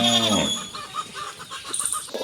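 A hen in a farmyard clucks after laying an egg, a short loud call at the start followed by quieter scattered clucks and faint background noise.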